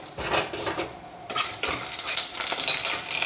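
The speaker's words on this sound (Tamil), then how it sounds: "ஸோ கொஞ்சமாக எண்ணெய் சேர்த்து இந்த மிளகாவை வறுத்துக்கலாம்." Chillies frying in a little oil for Madurai Meenakshi temple-style puli kaichal, steady close crackling sizzle with repeated scraping stirs of a spoon in the pan, no talking.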